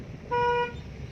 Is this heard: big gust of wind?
no